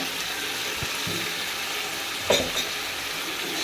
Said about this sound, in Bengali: আর একটু ভালো করে কষাই নিব মুরগি